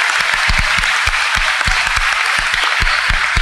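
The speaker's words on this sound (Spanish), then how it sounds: "Aplauso a estos estudiantes" Applause for award-winning secondary school students at a school awards night: dense, loud, continuous clapping from a crowd with sharp individual claps standing out throughout.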